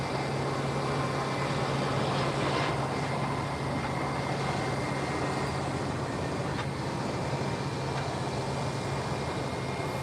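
A passenger jet landing on the south side of SJU airport in San Juan produces a steady, distant engine roar and rumble, a continuous broad drone without talk.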